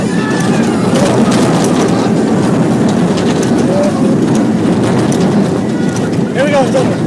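The Iron Wolf roller coaster at Six Flags Great America, heard from a rider's seat as a loud, continuous rush of wind and rumbling track noise, with occasional rattles and voices shouting over it.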